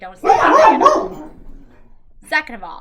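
An excited indoor dog, worked up by people on the stairs, gives a short sharp bark near the end, just after a person speaks over it.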